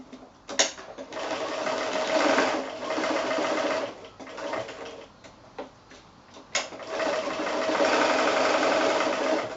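A sewing machine stitches down both sides of a lotus bag made from fat quarters, whirring in fast bursts of a few seconds with brief pauses between, close and steady.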